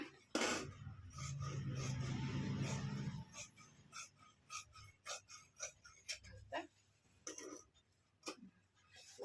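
Fabric from an old skirt is cut to make a gown, heard as a series of close, crisp snipping and rasping cuts with pauses between them, after a brief rustle of handled cloth.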